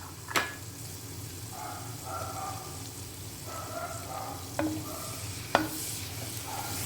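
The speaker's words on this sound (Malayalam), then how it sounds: "വെളിച്ചെണ്ണ ഒന്ന് ചൂടായി വന്നപ്പോൾ അതിലേക്ക് കുറച്ച് ഇഞ്ചി, വെളുത്തുള്ളി, പെരുംജീരകം ചതച്ചതിട്ട് കൊടുക്കാം." Crushed ginger, garlic and fennel seeds frying in hot coconut oil, a low steady sizzle with a few sharp spoon clicks and light stirring, fairly quiet and without speech.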